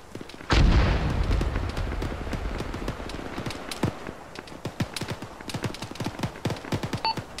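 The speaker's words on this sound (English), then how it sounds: "Oh, mortars." A mortar round in the military video game Arma bursts with a loud, deep boom and a long rumbling tail, followed by a steady run of sharp gunfire cracks at varying distances.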